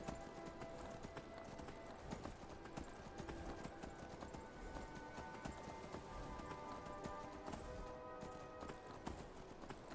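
Horse hooves clip-clop steadily throughout in Skyrim, a continuous rhythmic trot layered over faint game ambience and a few distant whinny-like calls.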